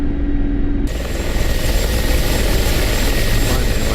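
A Mi-8 helicopter in the DCS World combat flight game drones close by with a dense, steady rotor and engine roar that swells abruptly after the first second.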